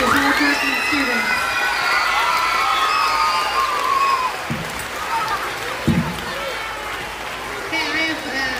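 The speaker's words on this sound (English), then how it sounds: "give them all one more round of applause" An elementary school awards ceremony audience cheers, shouts and claps for fourth-grade students. The sound is a loud, sustained crowd roar with children's excited shrieks and scattered voices, fading slightly with a few louder bursts near the end.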